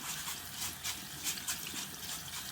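Uncooked rice swished around by hand in a bowl of cloudy water before going into chicken and rice soup, a soft continuous sloshing and trickling heard up close and quietly, with no voices.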